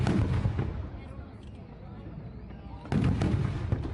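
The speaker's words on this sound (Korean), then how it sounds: "초신성 폭발입니다." A deep, rumbling supernova explosion effect swells at the start, drops to a low murmur, then bursts out again loudly near the end.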